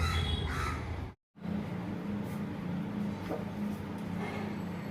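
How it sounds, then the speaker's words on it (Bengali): Crows cawing repeatedly from a tree near a rooftop garden against a steady background hum, with a brief moment of silence partway through. "এই গাছের পাখিগুলো যেন আমাদের জন্যই ডাকে"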